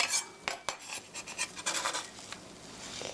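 A knife slices vegetables on a cutting board for stir-fried pork with tomato: a few sharp, close knocks early on, then lighter tapping and scraping strokes that fade toward the end.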